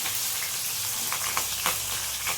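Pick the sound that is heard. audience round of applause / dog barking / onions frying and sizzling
onions frying and sizzling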